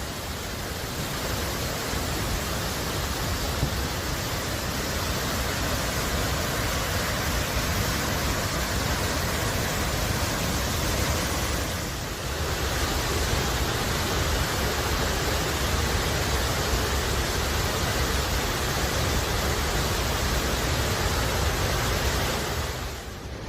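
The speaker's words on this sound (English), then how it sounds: "This is Tuolumne Waterfalls, Tuolumne River, a half-mile up from Flint Allen High Sierra Camp." Tuolumne Falls on the Tuolumne River in the High Sierra, a half-mile above a backcountry camp, roars as a steady, loud broadband rush of falling whitewater that fills the whole stretch without pause.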